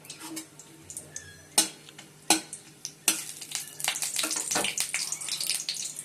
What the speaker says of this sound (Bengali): আর এদের ঘি দিয়ে দিলাম, ঠিক আছে।